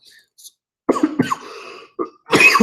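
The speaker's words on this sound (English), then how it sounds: "I'm coughing" A person coughs several times in close, abrupt bursts with short pauses between, ending in a harsher, throat-clearing cough.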